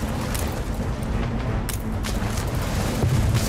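Warship cannons fire in the naval battle video game Anno 1800, a dense, continuous roar of booming shots and rumbling battle noise with a few sharper cracks standing out.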